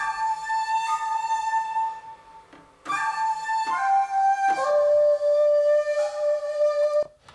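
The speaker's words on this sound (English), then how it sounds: "There's just loads of like panpipe sounds that is used on the synth" A breathy synth panpipe patch plays a slow melody of sustained notes in phrases with brief gaps, clear and close with no voices.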